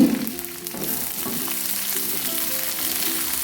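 Red, green and bird's-eye chillies frying with onions and bay leaves in a pan, a continuous close sizzle with a stirring spoon scraping now and then, no talking over it.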